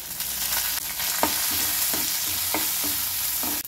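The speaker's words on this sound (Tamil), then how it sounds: "இதை தாளிச்சிடலாம் இதோட கருவேப்பிலையும் ஆட் பண்ணிடலாம்" Dried red chilies and curry leaves sizzle in hot oil for a tempering in a home kitchen, a steady close frying hiss with occasional crackles and stirring scrapes, no voices.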